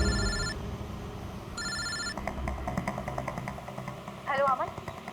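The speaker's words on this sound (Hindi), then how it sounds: "मैंने अमन को फोन किया।" A telephone rings in two clear bursts, followed by a softer electronic tone, over a low engine hum and faint background voices.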